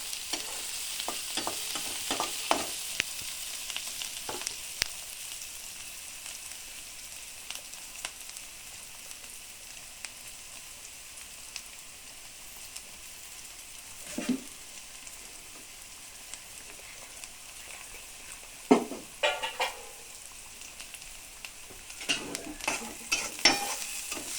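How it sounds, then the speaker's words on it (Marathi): Onions sautéing in a pan for pasta, a low steady sizzle with scattered bursts of stirring and scraping against the pan, close and alone with no voices. "थोडं आपण ह्याला परतवून घेऊयात"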